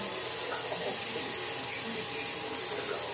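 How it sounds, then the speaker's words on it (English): Water runs from a tap in a steady, close, rushing hiss that stays constant and fairly loud throughout, with no other sounds over it. "So now we're gonna put some water in."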